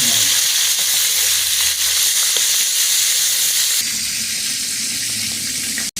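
Prawns frying in hot oil for a village-style butter prawn dish, a loud continuous sizzle and crackle with faint stirring, alone without talk.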